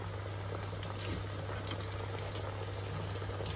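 A pot of curry with potatoes bubbles on the stove beside frying fish, giving off a steady, moderately loud boiling and sizzling hiss with no pauses.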